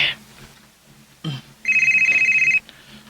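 A cellphone rings indoors at a boarding house: a short bright electronic ringtone pulses rapidly for about a second after a quiet pause and a brief knock-like sound.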